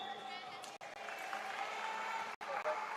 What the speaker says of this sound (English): The cheers that you hear are from the teammates.